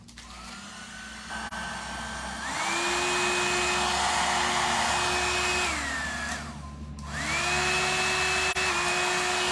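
A hair dryer priced at 1800 rupees runs steadily with a loud whirring hum, its pitch stepping up and down as the speed setting is switched, with no talking.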